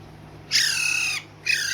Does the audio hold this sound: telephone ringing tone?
no